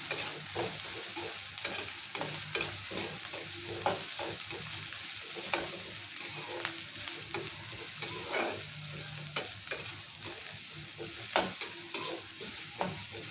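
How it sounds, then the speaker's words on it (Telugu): Chopped onion pieces frying in oil in a pan for chicken curry, with a steady loud sizzle and repeated scraping and clacking of a spatula as they are stirred, close by and with no voices. "ఉల్లిపాయ ముక్కలు లైట్ గోల్డెన్ కలర్ వచ్చే వరకు మంచిగా ఫ్రై చేసుకోవాలి"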